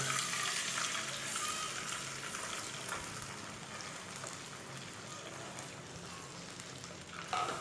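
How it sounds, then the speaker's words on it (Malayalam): Coconut milk sizzles as it meets hot ghee with whole spices in a pan for chakkara choru, a sweet rice dish, making a steady, close hiss that runs unbroken throughout with no voices. "ഇനി ഇതിലേക്ക് നമുക്ക് നമ്മളിവിടെ എടുത്തു വച്ചിരിക്കുന്ന തേങ്ങാപ്പാൽ ചേർത്ത് കൊടുക്കാം"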